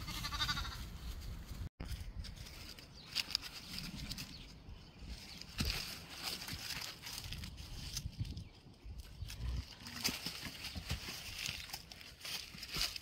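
Sheep and young lambs bleat repeatedly in farm pens on lambing day, faint calls overlapping and scattered, with rustling and movement between them.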